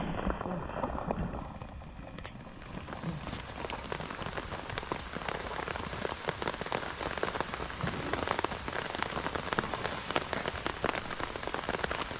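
Steady rain pattering on a hard surface, dense and continuous with fine droplet hits throughout, fairly close and without voices.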